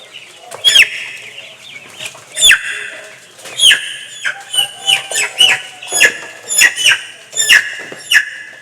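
A chicken clucks repeatedly while being handled for a fowl pox wing-web vaccination, with sharp, close squawking clucks that come in a steady series and some rustling or wing movement between them.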